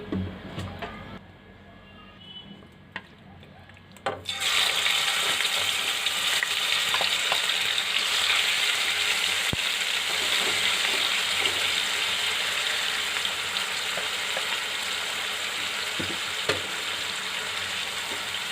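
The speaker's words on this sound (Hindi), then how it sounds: "अब हम अपना चिकन फ्राई कर लेते हैं।" After a few quiet seconds, a burst of loud sizzling starts as chicken goes into a pan with a tablespoon of oil for shawarma, then a steady close frying hiss with occasional pops and clinks, no speech.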